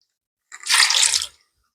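One cup of water poured into a cooking pot of apple butter ingredients, a single close splashy pour lasting under a second, loud and alone.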